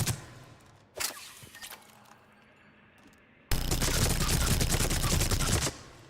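Heavy-recoil gunfire from a weapon in the Mass Effect 3 video game: a single sharp shot early on, then a loud, sustained automatic burst lasting about two seconds before cutting off.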